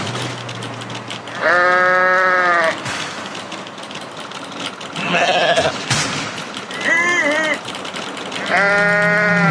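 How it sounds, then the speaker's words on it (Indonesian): Repeated drawn-out goat bleats from a goat video game, several loud harmonic calls spaced across the clip amid clattering game sounds and background noise. "Tuh kambing."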